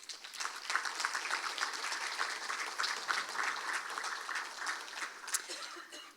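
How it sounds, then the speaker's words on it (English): A pageant audience at a fall festival claps steadily and fairly evenly throughout, a sustained wash of many hands at moderate distance. "So please give each other a big round of applause."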